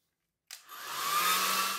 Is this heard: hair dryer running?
yes